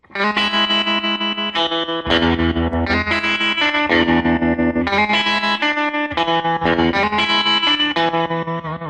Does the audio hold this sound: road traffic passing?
no